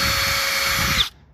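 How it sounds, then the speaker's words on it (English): A power drill with a 5/32 drill bit whines steadily as it drills out a rivet on a Ford Excursion tailgate handle, then stops abruptly. "I just used a 5/32 drill bit, and you just drill out the center of that rivet."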